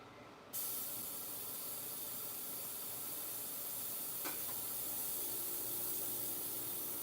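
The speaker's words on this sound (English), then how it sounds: "you can hear I got my silent air compressor going" A Silent Air brand air compressor switching on and running for airbrushing at about 24 PSI, producing a steady, even hiss that holds constant after a sudden start.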